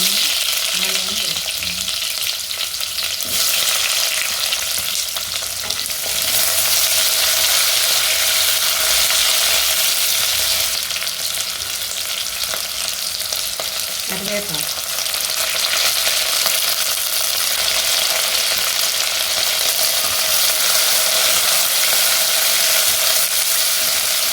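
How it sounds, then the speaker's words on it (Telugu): Mustard and cumin seeds splutter and crackle in hot oil in a pan, a loud, steady, close sizzle with dense popping that holds for the whole stretch without talk. "ఆవాలు జీలకర్ర చిట్టపట్టమన్నాయండి"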